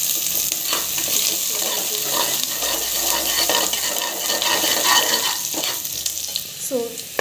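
Vegetables sauté in ghee in a pan, a bright continuous sizzle broken by scraping stirs and a few spoon clanks near the end, close and fairly loud.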